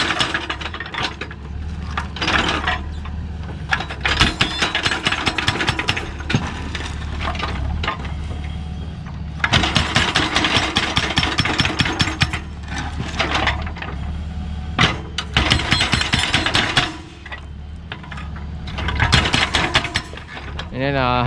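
A Doosan excavator's hydraulic breaker chisels concrete on a riverside dike, giving loud rapid hammering bursts that alternate with engine rumble and pauses, close and strong throughout.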